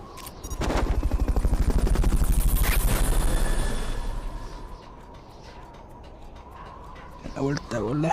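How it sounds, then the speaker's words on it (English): A helicopter's steady rotor thump pulses from the Fulton recovery sequence in Metal Gear Peace Walker, loud at first then fading, with a voice speaking near the end. "Fulton recovery helicopter is complete."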